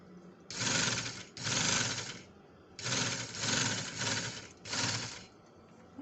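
A sewing machine runs in four bursts, stitching a narrow edge seam along a kurti sleeve, steady close whirring with brief pauses between runs and no talk.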